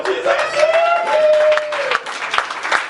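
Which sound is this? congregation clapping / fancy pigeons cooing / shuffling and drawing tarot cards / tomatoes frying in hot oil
congregation clapping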